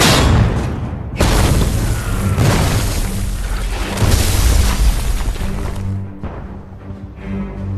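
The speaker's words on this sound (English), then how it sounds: "As German artillery continues to target the battalion's position" German artillery shells burst around a battalion's position in August 1944, loud, heavy booms arriving in a few waves with rumbling tails that fade toward the end.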